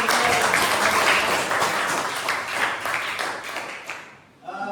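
An audience in a classroom session applauds with dense, steady clapping that fades toward the end before a voice begins speaking.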